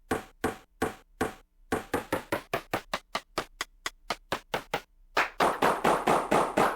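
A Linn LM-1 drum machine plays its clave sample, pitched low, as a series of sharp woody clicks, first slow, then rapid, then a dense stretch, each hit dry and close with no voices.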